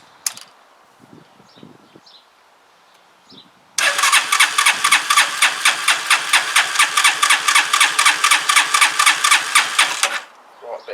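A Zontes Tiger 125 motorcycle engine cranks and starts after a few quiet clicks, then runs loud and close with a steady pulsing idle for about six seconds before cutting off.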